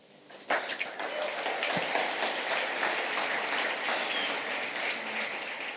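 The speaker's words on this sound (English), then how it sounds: "we'll have to share the applause with them" Audience applause fills a keynote hall at a developer conference, a dense sustained clapping that swells in after a brief lull and holds steady, loud and continuous to the end.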